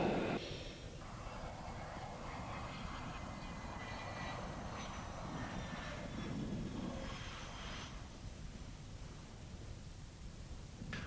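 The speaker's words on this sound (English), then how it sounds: "he brought the flanker in for a perfect deck landing" Su-27K Flanker jet landing on a carrier deck, a continuous loud broadband engine roar with shifting intensity throughout, no talk.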